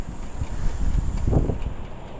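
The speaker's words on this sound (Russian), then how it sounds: "сегодня ветрено" Gusty wind buffets the microphone in low rumbling bursts, steady and close, with faint background hiss and no speech.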